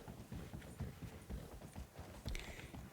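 Horse hooves clip-clop in a video game as a rider heads into Saint-Denis, a steady, fairly close run of thudding steps with a brief brighter clatter near the end and no talk.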